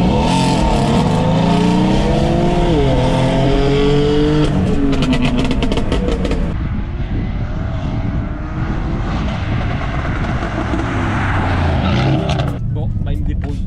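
Mercedes C63S AMG (510 hp) and BMW M4 Competition (550 hp) accelerate hard from a standing start in a drag race, loud engines revving and climbing through gears, then easing off, with people talking over them.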